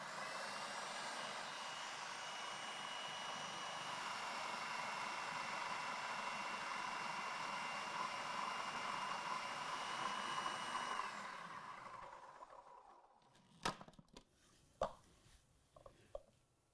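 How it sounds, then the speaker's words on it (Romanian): A food processor whirs steadily as it blends biscuits with butter for a no-bake cherry cheesecake base. The loud, even motor hum runs about eleven seconds, then winds down and stops, followed by a few sharp knocks. "Apoi, cu robotul pornit, voi adăuga untul puțin câte puțin până când îl voi incorpora pe tot în biscuiți."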